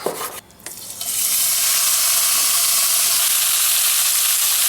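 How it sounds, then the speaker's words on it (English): Chunks of gravy beef for a Madras curry hit a hot pan and brown, starting with a short clatter and rising into a loud, steady, close sizzle. "You just want to let that sit and cook until it's nice and brown."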